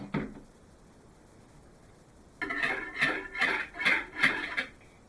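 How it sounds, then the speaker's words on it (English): After a quiet stretch, a whisk scrapes and clinks rhythmically against a bowl in about six quick, close strokes. "See, the whisk is still making a sound."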